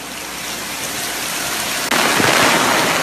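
Heavy rain pours down in Tokyo as a steady, dense hiss that grows louder and fuller partway through, with no voices present.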